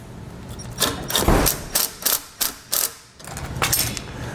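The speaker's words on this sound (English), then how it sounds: "We're going to use a 10mm socket" A hand ratchet with a 10mm socket tightens bolts on a 2020 Chevrolet Equinox, giving a series of close, crisp clicking bursts in a steady back-and-forth rhythm with short pauses between strokes.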